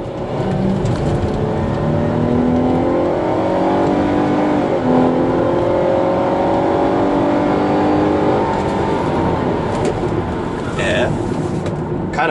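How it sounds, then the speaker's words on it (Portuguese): A Dodge Journey V6 SUV engine accelerates close by, its loud growl climbing in pitch through the gears in a sustained roar. "O som desse motor é algo assim indescritível."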